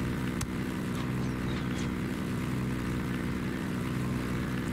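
A helicopter flies in the video game Ghost Recon Wildlands, a loud, dense rotor and engine drone with rhythmic thumping, accompanied by a sharp gunshot-like crack early on.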